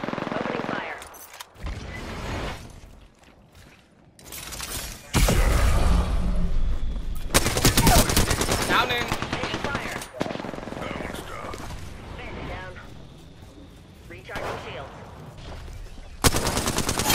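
Gunfire during an Apex Legends match on the Olympus map, rapid bursts of automatic weapon fire alternating with quieter stretches, loud and close, with a player's voice talking at times in between.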